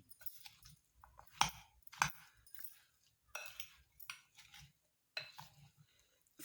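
Amla pickle with spices is stirred and mixed in a container, giving irregular clinks and scrapes of a metal spoon against the vessel with sharp taps between softer mixing sounds and no talking.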